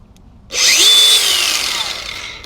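A DeWALT brushless power saw spins up loud and close, holding a steady high whine for about two seconds before its electric brake winds it down, with no talking.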